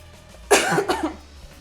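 A woman coughs once, a sharp close burst followed by a second smaller hack, alone against quiet room tone.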